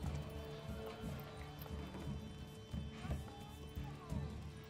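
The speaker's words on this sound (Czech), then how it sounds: "Máme jednoho koně" Horse hooves clopping in the medieval strategy game Manor Lords, a quiet, uneven series of hoofbeats with faint ambient background underneath.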